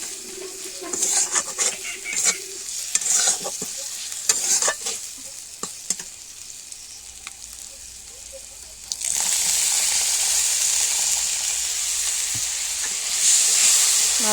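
Cabbage curry masala with chopped tomato sizzles and fries in a pan in a village-style Bengali kitchen, with irregular scraping stir strokes early on, then a steady loud hiss of frying that swells after a few seconds.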